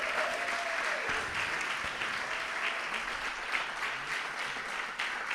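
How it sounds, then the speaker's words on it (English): Audience applause at the Diwali on Trafalgar Square 2025 launch event, a steady wash of outdoor clapping from a large crowd lasting throughout, with faint voices beneath. "let's give a big round of applause to the Chinmaya Mission UK organization"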